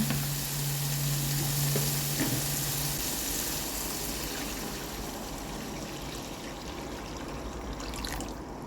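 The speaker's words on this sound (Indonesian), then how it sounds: "Sekarang kita tambahkan air. Tambahkan air secukupnya." Water poured into a pan of frying spice paste for rawon sets off a broad hissing sizzle that softens into a steady bubbling simmer, with faint trickling and stirring.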